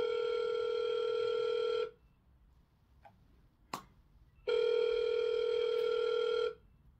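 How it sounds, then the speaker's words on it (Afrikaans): A landline telephone ringing indoors in a domestic comedy scene, two long electronic trilling rings with a short gap between them, clear and close, with a faint click in the pause. "Gavin, kan jy nie 'n foon antwoord nie?"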